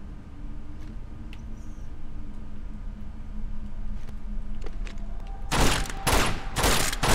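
Uncharted 2: Among Thieves gunfire: several loud, close shots crack out in quick succession after a stretch of quiet ambient hum and faint clicks.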